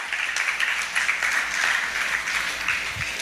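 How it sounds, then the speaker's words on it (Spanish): Congregation applauding inside a church, a steady wash of clapping from many hands that stays even and fairly close throughout, with no voices over it. "Denle un aplauso al Señor entonces."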